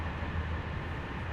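Inside a moving regional TER train near Strasbourg, a steady low rumble and hum fills the carriage evenly, loud and continuous, with no talking.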